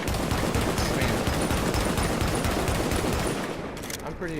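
Marksman rifle fire in The Division, shot from the hip: dense, rapid bursts of gunfire fill the clip at close range with little pause, and a voice can be heard faintly under the shots.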